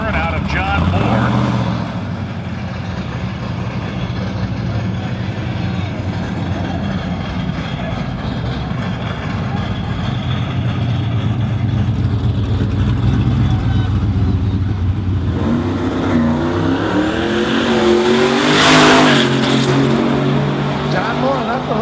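A Crown Vic roars through a burnout at a Road Kill Nights drag event, loud sustained engine and tire noise that rises toward the end, with a commentator talking over it.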